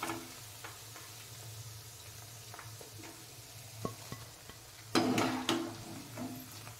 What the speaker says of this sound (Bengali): চিকেন পাকোড়াগুলো আমি উল্টে পাল্টে গোল্ডেন ব্রাউন করে ভেজে নিয়েছি